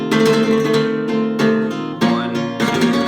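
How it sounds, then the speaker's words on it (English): Bright nylon-string flamenco guitar strummed in fast, rolling double rasgueado bursts in Farruca compás, with quick flicking attacks repeating in an even rhythm, close and loud. "we can also do a double rasgueado"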